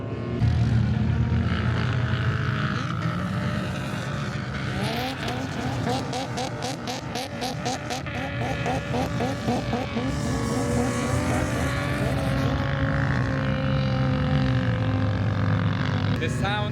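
Vehicle engines rev and whine as they climb sand dunes in Liwa, UAE, with rising and falling high-pitched engine tones, some distant and some passing nearer, amid crowd and outdoor noise.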